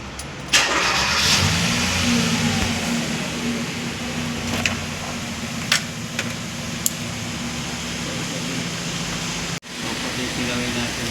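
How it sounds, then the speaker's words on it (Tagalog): A portable tire compressor runs with a steady buzzing motor drone, broken by a few sharp clicks and a brief dropout near the end before it resumes. "tingnan na natin itong compressor"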